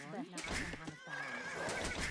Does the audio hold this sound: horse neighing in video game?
yes